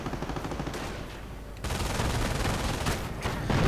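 An MG42 light machine gun fires in a Company of Heroes battle, loud sustained rattling bursts that grow denser after a brief lull, layered with other gunfire and battlefield noise.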